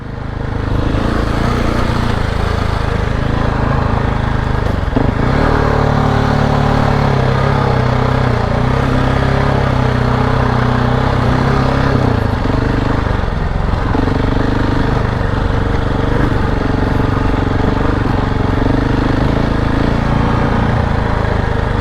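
A KTM 690 Enduro R motorcycle rides off-road at Chengwatana, its single-cylinder engine droning loud and steady throughout, with brief dips and surges as the rider eases off and gets back on the throttle.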